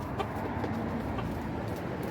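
Silkie chicken rooster clucking in a farmyard during morning chores, with several short clucks over steady background noise and birds.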